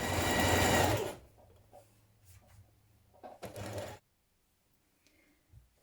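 A sewing machine runs a quick, loud burst of stitching along a knit dress skirt seam, then stops, leaving soft handling clicks and rustles close by.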